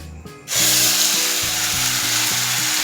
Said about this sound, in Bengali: ফোড়ন কিছুক্ষণ ভেজে নিয়েছি, এবার এর মধ্যে দিয়ে দেব পেঁয়াজ বাটা।